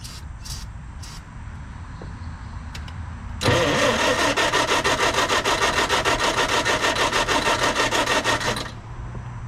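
A project vehicle's engine, suspected of a trashed carburetor, cranks after a few faint clicks, a loud rapid rhythmic churning that holds steady for about five seconds, then cuts off without catching.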